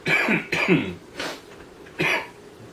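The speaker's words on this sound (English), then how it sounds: "Still coughing from my attack earlier." A few rough, throaty coughs close by, two quick ones together, then a fainter one and a final hard cough after a pause.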